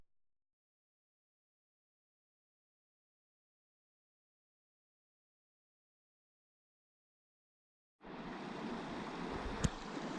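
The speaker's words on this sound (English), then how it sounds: "First river of the trail, only river really. Snow melt from way up yonder." Snow-melt river rushing along a trail, a steady broadband roar of flowing water that starts abruptly after about eight seconds of near silence and continues loud and close to the end.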